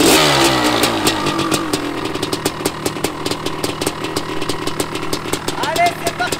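A Honda CR500 dirt bike engine cranks and fires, then barks through a series of sharp, uneven revs, loud and close, with someone talking over it.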